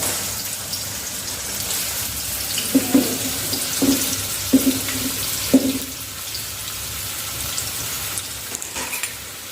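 Chopped onion sizzling as it fries in hot oil for a chicken leg piece gravy, a steady hissing crackle with a few soft clinks from a utensil partway through.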